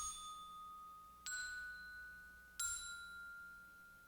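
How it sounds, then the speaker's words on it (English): Three bright metallic notes from a software glockenspiel preset struck slowly one after another, each ringing out clean and sustained before the next, with no added effects. "I went to the tune percussion section and I chose this Glockenspiel preset."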